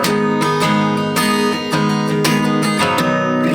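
An acoustic guitar strummed with accented down-down-up strokes in a steady rhythm, sustained chords ringing loud and close, no voice.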